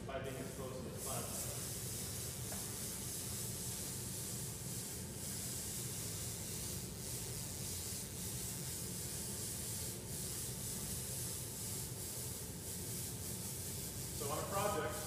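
Steady hiss and crackle of a laser cleaning a limestone surface runs throughout, a dense, even rasping that barely changes, with a brief clatter near the start and end.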